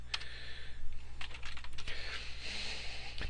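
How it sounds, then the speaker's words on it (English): Bursts of keystrokes on a computer keyboard, typed while working at a command line, close and fairly quiet over a steady low hum, with no talking. "Helps if I type correctly."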